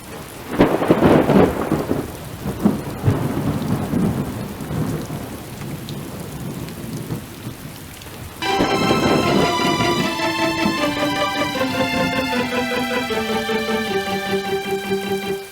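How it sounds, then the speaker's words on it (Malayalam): Thunder rumbles loudly over pouring rain, rain keeps falling steadily, and a melodic tune joins halfway through. "മഴ വരുന്നു, മഴ വരുന്നു."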